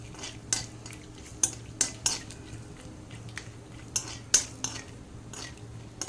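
Peanuts frying in a pan as a utensil scrapes and clinks against the metal in irregular strokes, close and moderately loud over a low steady hum, with no talking.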